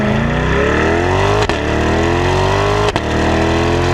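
Corvette Stingray V8 engine accelerating hard, a loud, close, rising roar that climbs steadily in pitch, broken by two quick gear shifts before climbing again.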